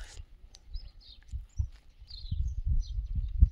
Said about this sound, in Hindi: आपको सिर्फ चिड़ियों की ही आवाज़ आ रही होंगी,